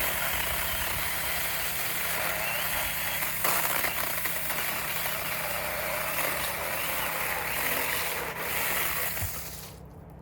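A hand saw working through a 2.5 to 3-inch limb of a cherry tree, a steady close rasping that runs without pause and trails off near the end.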